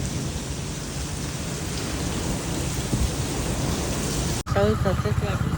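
Heavy rain during a severe windstorm roars in a dense, unbroken wash of noise, loud and close, with a brief break near the end where a voice speaks over it.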